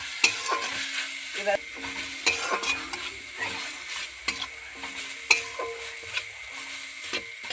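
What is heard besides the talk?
ginger frying and being stirred in a pan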